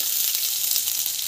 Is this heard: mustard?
yes